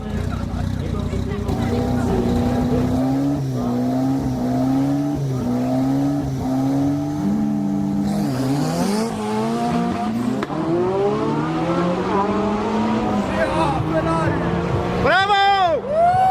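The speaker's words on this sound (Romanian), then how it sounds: "poate același tip de motor cu turbo, dus la 240 de cai putere," A 1970s Skoda 120 L with a turbocharged 1.3 engine tuned to 240 hp revs loudly onboard, its engine tone climbing and dropping through repeated sweeps before sharp high-pitched rises near the end.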